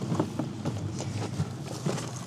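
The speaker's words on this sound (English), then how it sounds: "The thing that also sucks is it's windy as heck." Gusty outdoor wind buffets the microphone in uneven rumbling bursts, fairly faint and continuous, with no talking.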